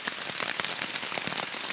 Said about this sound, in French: j'espère que la pluie va slacker